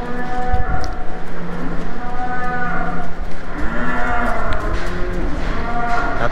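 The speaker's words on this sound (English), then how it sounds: "Here come the cows." Dairy cows being moved into a calving barn moo repeatedly and loudly, several overlapping drawn-out calls from more than one animal close by, with hoof and barn noise underneath.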